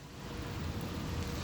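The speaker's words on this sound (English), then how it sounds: "it's raining out here" Rain falls steadily outdoors, a soft, even hiss with no breaks, heard faintly for a brief moment.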